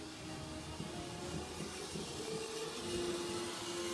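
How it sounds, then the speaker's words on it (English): A steady whirring hum of a toy train running along a track indoors, with faint rattling and clicking, continuous and fairly quiet throughout. "We got the train going in the other room."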